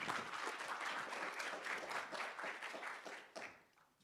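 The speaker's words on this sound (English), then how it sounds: "Let's welcome him with a round of applause." An audience at an entrepreneurs' event applauds a speaker with a full, rhythmic round of clapping that holds steady, then thins out and fades away at the end.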